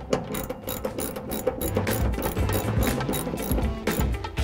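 A ratchet tightens a shoulder bolt on a seat belt bracket during a 3-point retractable belt install in a classic 1967-1972 Chevy C10, with close, continuous rapid clicking and a few thuds.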